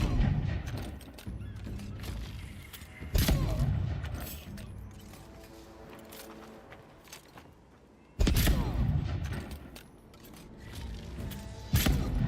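Loud, sharp pistol shots in the video game Avowed, a few separated blasts with crowded combat noise and clatter in between.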